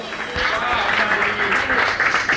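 Audience applause and cheering for guest singers at a bar gig, loud and close, with crowd voices and whoops mixed into the steady clapping.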